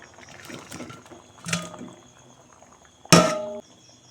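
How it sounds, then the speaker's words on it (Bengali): Fried red lentil fritters dropped into a simmering curry in a pan, a soft splash and bubbling near 1.5 s followed by a sharper, louder clatter and splash around 3.1 s, over a low background of faint kitchen noise. "এবার দিয়ে দিচ্ছি ভেজে রাখা ডালের বড়া"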